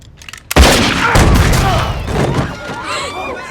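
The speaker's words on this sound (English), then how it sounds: "he just shot Johnny as well" A single loud gunshot from the Western film Deadwood cracks suddenly, then its heavy boom and reverberant echo trail off over several seconds.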